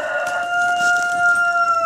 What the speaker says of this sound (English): On cue my rooster crows.